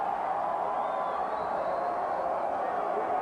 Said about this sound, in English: a bit of a derisive cheer coming up from the crowd